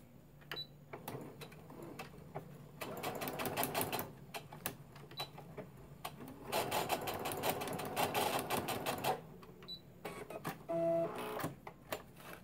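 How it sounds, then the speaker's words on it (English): A home embroidery sewing machine stitches in quiet, rapid mechanical bursts of several seconds each, separated by short pauses and softer whirring. "I got this new machine and it has embroidery on it."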